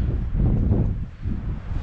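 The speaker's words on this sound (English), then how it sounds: "it's windy. Yeah. It is windy." Strong wind buffeting the microphone at altitude on Red Butte in Kaibab National Forest, a continuous low roaring rumble that rises and falls in gusts, close and loud.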